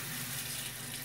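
Tap water runs over water kefir grains being rinsed in a sink, a soft steady splashing stream, fairly faint and constant, with no speech.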